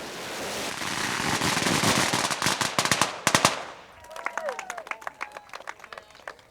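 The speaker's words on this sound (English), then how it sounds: "So now we decided we would go with the firecrackers." Rapid string of firecrackers bursting in a dense crackling volley, then scattered louder pops fading out with distant echoes.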